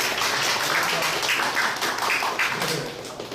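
Audience applauding at the close of a lecture in a Korean interview-prep class for army aviation warrant officers, steady dense clapping from a nearby group that holds at full strength and tapers slightly at the end.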